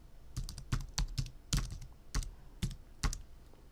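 Quick bursts of keys clacking on a computer keyboard as a Wi-Fi network name and password are typed in, close and crisp, in irregular short clusters with no talking.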